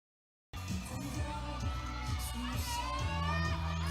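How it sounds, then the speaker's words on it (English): Spectators at an IFSC climbing World Cup final in Briançon cheer continuously as a climber makes her moves, a dense roar of shouting with steady music underneath. "The crowd cheering pretty much every move from Nina Artaud."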